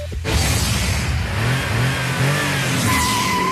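A 2006 Pontiac Vibe's engine revs and accelerates steadily on a test track, its pitch climbing through the gears, loud and close with a constant rushing road noise.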